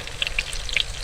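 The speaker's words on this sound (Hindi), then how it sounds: "ताकि इसका कच्चापन खत्म हो जाए और अच्छी सी हमारी टिक्कियाँ फ्राई हो जाए" Minced meat patties (keema tikki) frying in a pan give a brief, quiet crackle with a few sharp little pops over a steady hiss.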